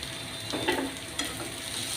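Kantroli vegetable being stir-fried with grated coconut and coriander in a pan, a soft sizzle with a couple of brief spatula scrapes, close and fairly quiet, no voices.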